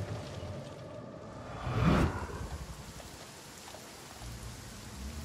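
Steady rain falls in the video game Banishers: Ghosts of New Eden, a soft continuous hiss with a brief louder swell near the two-second mark, fairly faint and without talk.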